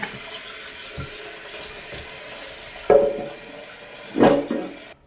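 Water runs into a newly installed toilet as the tank and bowl fill, a low steady trickle and hiss punctuated by two louder gushing surges near the end.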